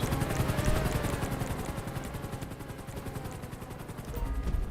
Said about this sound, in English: The helicopter is too loud.